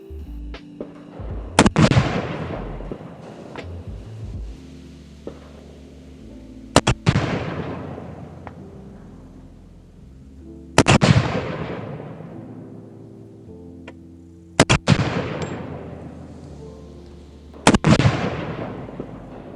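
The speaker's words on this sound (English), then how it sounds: "So the soldier just shot his first group, all right?" Five sharp rifle shots from an M4 carbine, fired by a soldier on a range, crack out one at a time at intervals of a few seconds. Each loud report echoes and decays.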